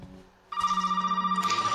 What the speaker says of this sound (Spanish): Me está troleando, el teléfono.